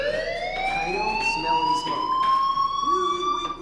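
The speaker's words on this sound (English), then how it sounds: "do you hear that fire alarm?" Fire alarm wailing in the Life is Strange video game, a rising siren-like tone with harmonics that holds steady for several seconds, with brief soft voices and game sounds underneath.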